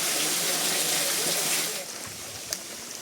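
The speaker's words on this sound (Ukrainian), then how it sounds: "Водичка тече собі так. Тече по жолобі дерев'яному" Water runs along a wooden trough near a small waterfall in the Dniester region, a steady close rush that softens partway through.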